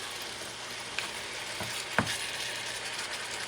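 About a tablespoon of soy sauce sizzling on a frying egg: a steady, close, broadband hiss with two brief sharp ticks along the way and no voices.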